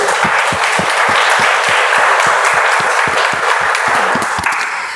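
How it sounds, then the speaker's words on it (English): A Toastmasters meeting audience gives a loud, sustained round of applause, many hands clapping in a dense wash with a regular rhythmic pulse running through it, easing off slightly at the end. "A round of applause for both of them"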